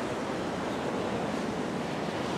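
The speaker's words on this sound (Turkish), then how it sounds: "Bak deniz gelmeye başladı" Steady broadband wash of sea waves rolling in below a cliff-edge campsite, a continuous loud roar with wind buffeting the microphone and no distinct breaks between swells.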